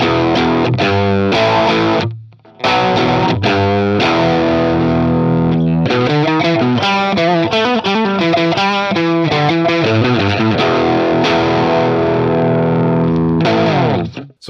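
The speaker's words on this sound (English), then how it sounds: "it makes a pretty good overdrive sound" Electric guitar pushed into overdrive by an EQ pedal set with a Tube Screamer-style mid-hump, loud and sustained chords and riffs played alone with a brief drop near two seconds, gritty and thick throughout.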